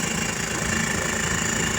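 A Suzuki Carry 10 fitted with a Thunder motorcycle engine, running with a steady, even drone and faint knocking vibration, heard on a wet, muddy road in the rain.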